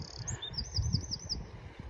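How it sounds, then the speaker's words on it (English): Small bird chirps, likely sparrows in a warm, sheltered blackthorn patch at Ventnor Bay on the Isle of Wight, come as a quick run of short repeated calls, with a brief chirp before them. Low wind or rumble sits underneath. "the old sparrows are down there in the warm, sheltered"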